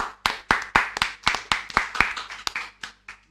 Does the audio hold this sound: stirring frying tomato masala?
no